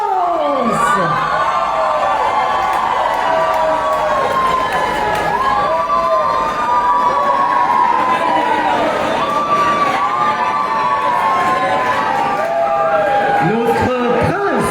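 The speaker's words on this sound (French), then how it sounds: "veuillez applaudir notre prince Nicolas et notre princesse Laurence" A crowd at a street celebration in Romans cheers and shouts for a prince and princess, sustained loud noise with rising whoops and a siren-like wail sweeping through.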